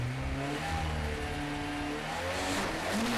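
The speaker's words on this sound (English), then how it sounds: "Now let's take a ride up Gurston in the passenger seat of Colin Smith's ex-Rallycross Escort Cosworth during a morning" A turbocharged ex-Rallycross Ford Escort Cosworth launches up the Gurston hillclimb, its engine droning loud and steady from inside the car as it pulls hard with rising revs.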